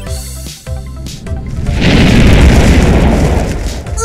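A cartoon volcano erupting on a mountain peak in a children's animated show: a few short tonal sound effects, then a loud, sustained rumbling blast that swells and slowly fades.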